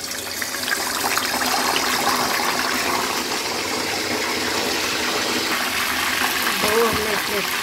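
Chicken legs drop into hot cooking oil, setting off a continuous loud hissing sizzle that holds steady, with brief clatter of handling near the end.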